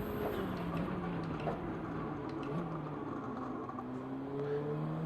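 A GT300 Subaru BRZ race car in Gran Turismo 7 on a short track, its engine a continuous whining drone that rises and falls as it accelerates and backs off.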